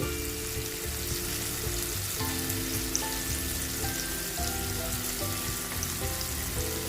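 Tomato with Kashmiri chili powder frying in a pan, a steady close sizzle with faint stirring scrapes throughout, no talk.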